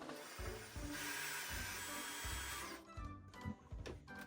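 Power drill with a larger bit bores through an RV cabinet, a loud, steady high grinding whir for about two seconds with rhythmic low thumps, then stops into clicks and rattling handling noises.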